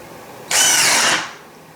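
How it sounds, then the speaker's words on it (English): A KIMO 20V cordless drill with a 1-inch paddle bit whirs loudly and steadily for under a second, boring through material, then winds down and fades out, with no talk. "a 1-inch paddle bit, and I'm going to drill through this"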